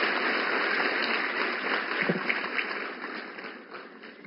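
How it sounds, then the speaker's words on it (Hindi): An audience at a women's empowerment programme in New Delhi applauds for PM Narendra Modi. The clapping is a continuous, thin, muffled wash that fades gradually toward the end. "माननीय श्री नरेंद्र मोदी जी के लिए जोरदार तालियां।"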